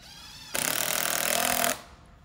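A power driver sinks the last screw into roof fascia board, one loud steady whirring burst of about a second, close by, starting and stopping abruptly with no talk.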